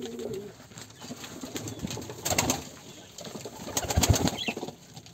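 Pigeons in a loft, among them a male Sirazi and Beauty and Giribaz birds, coo at close range amid scattered wing flaps and rustling.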